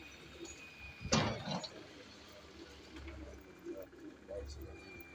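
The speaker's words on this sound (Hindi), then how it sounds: "ये कबूतर आप देख रहे हैं माशाल्लाह से" Hobby pigeons give soft, low coos at intervals. A brief louder rustle breaks in early, and faint background noise sits underneath.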